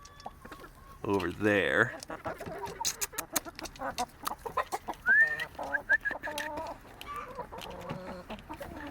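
Welsummer, Black Copper Marans and Silver Laced Wyandotte chickens cluck and call in a backyard flock, with a loud burst of calls early on and then repeated clucks. A person talks over the birds throughout.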